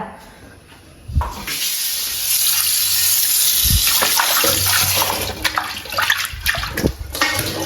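Water splashes and pours steadily while a large bronze cooking vessel (uruli) is washed for making payasam, near and continuous with clunks of metal, and brief voices in the background.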